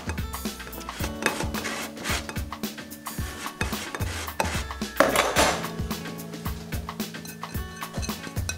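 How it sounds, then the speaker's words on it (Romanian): Boiled egg yolk grated on the small side of a small hand grater, heard as quick, regular rasping strokes with sharp scraping ticks, close and fairly loud, with no talking. "Acum radem gălbenușul. Tot pe răzătoarea mică, pe partea mică a răzătorii."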